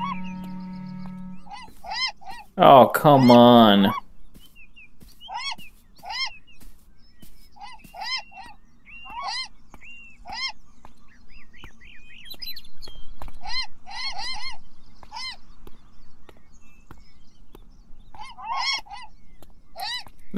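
Birds squawk and honk in a video game, with repeated short, sharp goose-like honks in irregular clusters across a long stretch. An early loud burst is followed by steady chattering calls, and a person speaks briefly.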